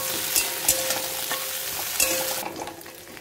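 Potatoes frying in oil in a pan give a steady, close sizzling hiss, broken by a few sharp scraping stirs before the sizzle quiets toward the end.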